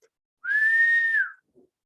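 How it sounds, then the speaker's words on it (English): A single steady whistle through pursed lips, one clear sustained pure tone held for under a second with a slight rise at the start and a dip at the end, close and alone in a quiet room. "When you whistle"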